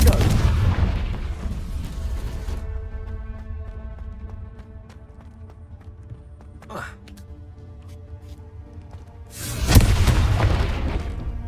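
Confringo spell explosions in the Hogwarts Legacy video game burst out as loud booming blasts, one heavy rumbling explosion at the start and another near the end, with quieter magical whooshes and game music between.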